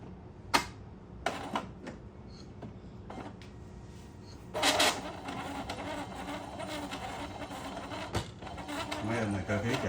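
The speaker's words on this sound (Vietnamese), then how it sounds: "Máy in này cơ khí chạy kêu to quá." An Epson L3110 inkjet printer powering up, its mechanism clattering loudly with sharp clicks and a longer grinding run midway, followed by steady whirring while someone talks over it.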